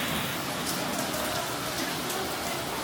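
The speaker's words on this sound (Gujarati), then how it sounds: "અત્યારે જવું તો ઓફિસ અને ફરીથી વરસાદ ચાલુ થઈ ગયો છે" Rain comes down again over Ahmedabad as a dense, steady hiss, fairly loud and close, with scattered drops pattering through it and no talk.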